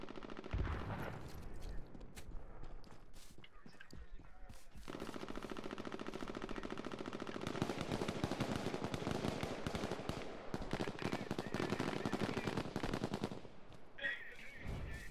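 Dense bursts of gunfire from an H1Z1 Battle Royale match, including M40 sniper rifle shots, crack out loud and near in rapid, overlapping volleys that run almost without pause, with a brief lull near the start.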